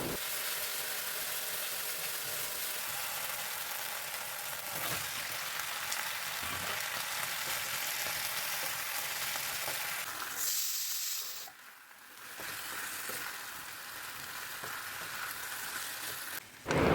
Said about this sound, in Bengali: এত বড় বড় মাছের পিস থাকলে না, মানে মাছের মাথার পিস, খুব অসুবিধে হয় নাড়তে।